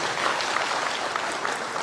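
An audience at an intra-faith religious conference claps steadily, a thick, even wash of hand claps with no speech over it.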